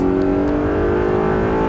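Race car on a circuit accelerating hard out of a corner, its engine note steady and loud with strong harmonic drone held close throughout, no talk over it.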